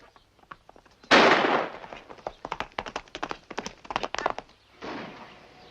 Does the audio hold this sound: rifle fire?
yes